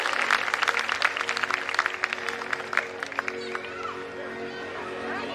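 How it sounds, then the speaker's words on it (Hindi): An audience at a Khatu Shyam devotional evening event applauds to welcome a guest onto the stage, a burst of crowd clapping that fades to scattered claps over a low murmur of voices. "एक बार प्लीज तालियों के साथ सभी स्वागत करें"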